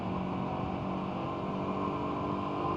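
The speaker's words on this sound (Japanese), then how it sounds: "少しカチャカチャ機械音がしていると思うので" A Honda CB125T motorcycle engine runs steadily at close range, giving a constant mechanical hum with a faint clattering tappet noise and no change in pitch.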